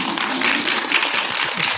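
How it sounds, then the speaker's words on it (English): Audience at a school assembly applauds, a brief burst of dense, steady clapping from many hands filling the hall, fairly close and without talk. "sharing your applause."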